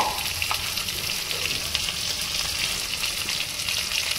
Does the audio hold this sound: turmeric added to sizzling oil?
yes